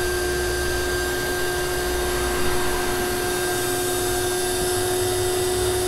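A 6.5 horsepower shop vac draws sludge from the bottom of an aquascape pond filter, making a steady, loud motor whine and rushing airflow that runs evenly throughout with no talking.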